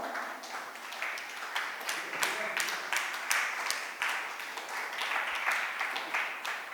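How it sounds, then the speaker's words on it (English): Audience applause greeting the chief guest, Kannada actor and filmmaker, at a book awards ceremony; steady, dense clapping with sharp individual claps standing out, sustained throughout at moderate level. "with a thunderous round of applause"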